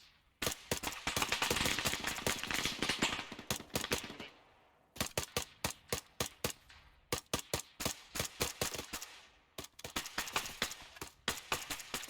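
Suppressing gunfire in a military video game: sustained bursts of rapid automatic fire, loud and close, broken by brief pauses and then resuming in long rattling volleys.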